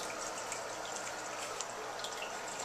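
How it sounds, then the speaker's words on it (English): Circulation pumps in a 120-gallon reef aquarium move water in a soft, continuous swirl with faint trickles and small drips, low and steady with no voices. "right now I got the pumps on opposite for 5 seconds, so it creates like a different current in the water"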